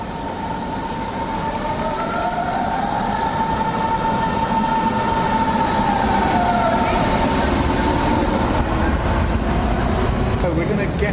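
Berlin S-Bahn commuter train at Zoological Gardens station, a steady loud rumble of rolling wheels with long rising and falling electric motor whine throughout, close and continuous.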